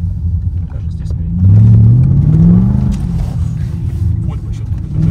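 A BMW slides sideways on winter tires over a road without snow or ice. The engine rises into a loud rev for about a second, then settles back to a rumbling drone.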